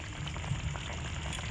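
Eggplant curry gravy simmering uncovered on high heat, giving a steady low bubbling and sputtering throughout, close up, with no voices.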